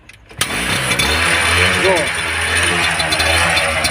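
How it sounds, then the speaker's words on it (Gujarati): A homemade machine fitted with a Suzuki engine starts with a sudden catch and then runs at a steady, loud idle, with someone speaking briefly over the engine's drone. "જો મિત્રો આ હિંમતભાઈ હાથે બનાવ્યું છે. સુઝુકીનું એન્જિન ફિટ કરીને."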